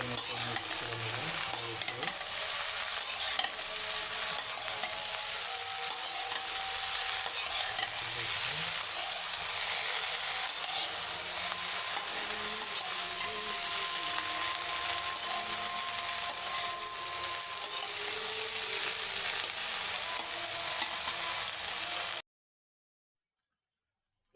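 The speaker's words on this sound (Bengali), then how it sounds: "দেখতে পাচ্ছেন এখন এটা সুন্দর মতো মিক্স করে নেবেন" Okra with spices fries in a pan under steady stirring, a dense continuous sizzle with soft spoon scrapes, close and fairly loud, ending abruptly in silence near the end.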